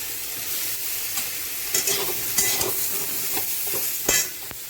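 Sour mango pieces stirred in a frying pan, a brisk sizzle punctuated by repeated spatula scrapes and knocks against the pan, close and loud with no talking.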